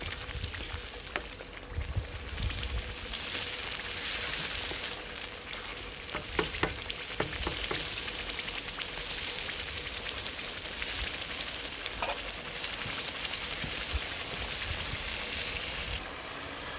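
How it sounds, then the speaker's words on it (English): Chana masala sauce with chickpeas boils and sizzles in oil in an outdoor pan: steady frying hiss with bubbling pops and occasional stirring knocks, close and continuous with no talk. "So you just want this to come to a good boil once again."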